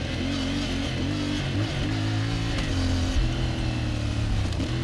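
CF Moto MT450 off-road motorcycle engine running steadily, its close, loud mid-pitched drone shifting pitch in several revving swells over nearly five seconds with no talking.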